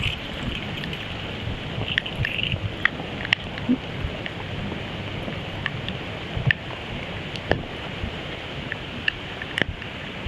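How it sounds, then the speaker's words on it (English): Steady rain falling outdoors during a long walk, a dense close hiss with scattered sharper drops and taps, continuous and alone without voices. "But it's definitely raining now."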